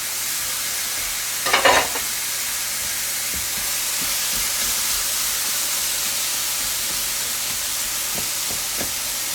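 One pound of Italian sausage frying in a pan for a stuffed butternut squash filling: a loud, continuous close-up sizzle, broken by a brief clatter of stirring early on and a few faint taps later.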